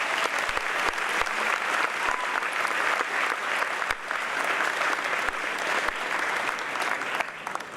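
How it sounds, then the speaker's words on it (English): An audience at a class day ceremony gives a sustained round of applause, many hands clapping steadily and fairly loud throughout, with a few sharper individual claps standing out. "Please give them a round of applause"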